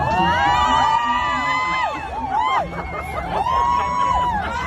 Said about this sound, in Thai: มีกองเชียร์ด้วยนะคะด้านข้าง